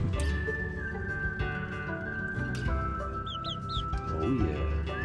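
Chickens clucking on a farm, soft overlapping clucks and short calls over a steady low background hum, with a few brief higher chirps scattered through.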